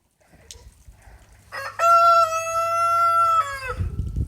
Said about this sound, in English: And our lovely rooster.